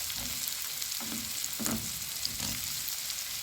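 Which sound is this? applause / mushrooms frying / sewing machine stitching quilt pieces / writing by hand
mushrooms frying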